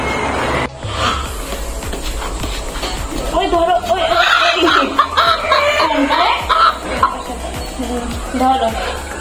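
Rooster and hens cluck and call repeatedly around a home yard, close and lively, with someone talking over the birds throughout.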